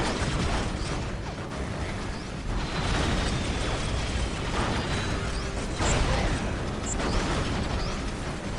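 Explosions and battle noise from the real-time strategy game Soulstorm, a bomb blast among continuous dense rumbling, pops and mechanical clatter throughout, fairly loud with bursts near three and six seconds.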